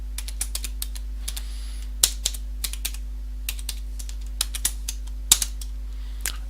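Keys clicking on a computer keyboard as a passphrase is typed, irregular close taps with occasional louder strokes over a steady low hum.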